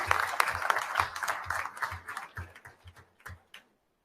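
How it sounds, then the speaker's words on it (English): Sparse audience applause at a school board meeting, a handful of people clapping in a steady, evenly spaced rhythm that slows and thins out before stopping after about three and a half seconds. "Again, another round of applause"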